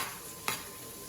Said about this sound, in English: I can hear the potatoes sizzling over there